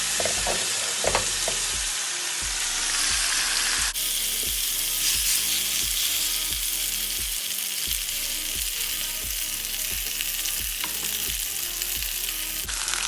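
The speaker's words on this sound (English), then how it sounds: "we're just going to put them over on the grill pan real quick, just so you can sear in some nice charcoal stripes on them" Pork chops searing on a hot grill pan, a loud steady sizzle and crackle that continues alone throughout with faint periodic scraping.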